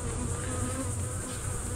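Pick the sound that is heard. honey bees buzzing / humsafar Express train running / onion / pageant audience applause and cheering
honey bees buzzing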